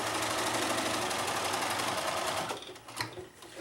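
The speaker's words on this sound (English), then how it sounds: "I'm just going to follow these lines, and I'm going to sew every line I see." A sewing machine stitching along the lines of a fabric play mat, a fast, steady mechanical whirr up close that slows and stops near the end.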